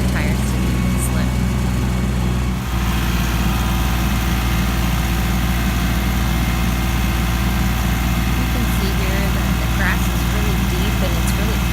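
A Massey Ferguson 1740M tractor mowing thick growth with a brush hog, a loud, steady low engine drone with constant mechanical vibration and a brief dip partway through.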